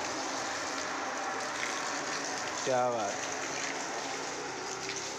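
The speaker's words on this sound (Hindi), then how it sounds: "पापा तो पेड़ों में पानी डाल लें" Water from a hose splashes onto trees in a home yard as a steady, close, hissing gush that runs the whole time, with a brief voice speaking over it.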